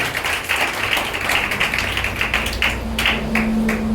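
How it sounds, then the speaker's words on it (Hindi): Crowd clapping to welcome wedding guests arriving at an Indian wedding, a steady patter of many hands at moderate loudness, with a low hum rising near the end. "हम बाराती लोगों के लिए हम लोग जोरदार ताली बजा करके लोगों को स्वागत करेंगे"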